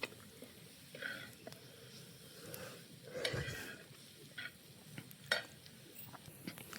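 Bhuiphod wild vegetable being stirred in a pan with onion, green chili and turmeric, giving soft scraping and clinking of a spoon against the pot over a low sizzle, with a few louder knocks and no talking.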